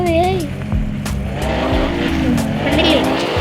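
A car driving in a Roblox video game, its engine humming steadily and loud with a brief tire-squeal-like whine, while a person talks over it throughout.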